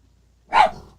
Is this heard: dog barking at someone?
yes